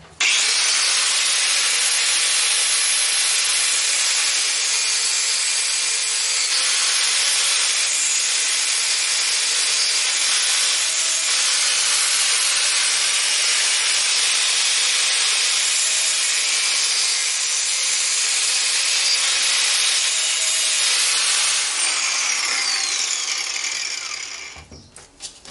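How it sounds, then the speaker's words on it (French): An angle grinder cutting on a Clio 3 RS throttle body, a loud continuous high-pitched grinding whine held steady for about 24 seconds before it cuts off and spins down at the end. "Tu peux ranger la meuleuse, t'as fini, tu viens de faire le plus dur."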